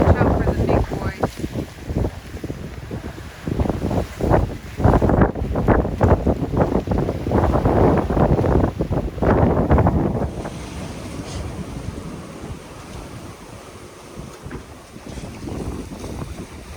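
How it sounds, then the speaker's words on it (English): A merchant ship passes a sailing boat at sea amid steady wind buffeting and waves, loud broadband rumble and wash through the first ten seconds, easing to a softer, more distant wind and water hiss afterward, with brief talk. "There's the ship going away."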